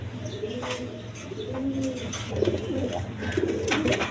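Danish pigeons coo in low, repeated rolling calls at close range, with a few chirps over steady background noise from a pigeon market stall.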